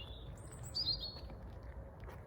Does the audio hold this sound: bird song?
yes